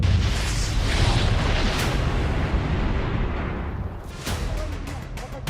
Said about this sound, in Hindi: अफगानियों ने अपनी तोपें पाकिस्तान पर खोल दी।